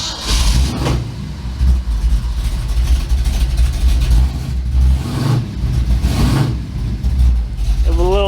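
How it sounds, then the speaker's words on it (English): A flooded race truck engine cranks, catches and settles into a rough idle, with repeated surges and dips in a loud, close, low rumble throughout. "Now when I go to fire it up,"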